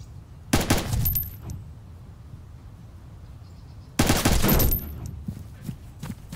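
Gunfire in a sniping video game comes in two loud bursts of rapid shots, each lasting under a second and separated by a few seconds of low background noise.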